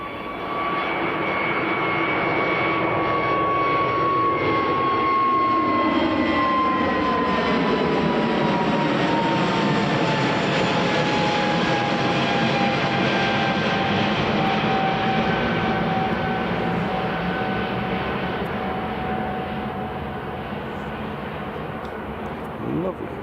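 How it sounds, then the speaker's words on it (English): An EasyJet jet takes off at Edinburgh Airport with a loud, sustained engine roar that holds steady throughout, its tones sliding slowly as the aircraft climbs away. "it's EasyJet airborne"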